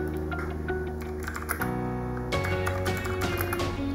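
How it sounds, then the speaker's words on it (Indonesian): Keys clatter on a computer keyboard during basic programming exercises, a run of quick, light taps that sit close but somewhat buried under steady background music. "kita ikutan ngetik ya"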